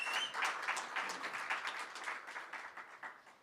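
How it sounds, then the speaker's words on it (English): Soft, fairly distant applause from a seated audience at a business innovation and incubation conference, a continuous patter of many hands gently rising and falling. "Round of applause."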